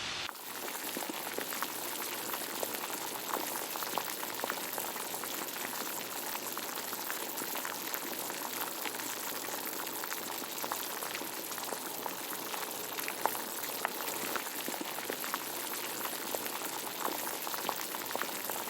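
Water with sugar, mustard seeds, cumin and green chillies boils steadily in a pan as a tempering for khaman, giving a continuous bubbling, rumbling hiss that stays fairly quiet and constant, with no voices.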